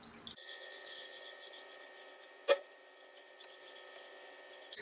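Water trickling and splashing softly as it drains from watered orchids, rising and falling in bursts, with a single sharp knock partway through.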